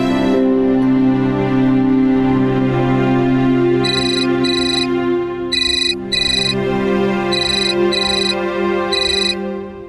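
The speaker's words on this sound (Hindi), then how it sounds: "हम आदित्य के पापा को फोन लगाएं" A phone rings while a call is being placed, with repeated bursts of ringtone in a regular pattern over loud background music, heard clearly and fairly close.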